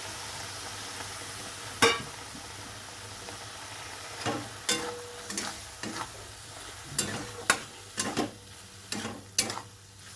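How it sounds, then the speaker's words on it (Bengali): Boiled mushrooms are stirred into spice masala in a pan, giving a low steady sizzle broken by repeated sharp scrapes and taps of a spoon, close and with no talking. "এখন আমি এটা মশলার মধ্যে দিয়ে দিচ্ছি মাশরুমটা।"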